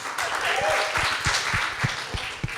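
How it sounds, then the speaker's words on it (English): At a live art festival talk, an audience claps for a painter, a moderate wash of applause with a few distinct close claps, and a voice briefly audible beneath. "Clap for Case."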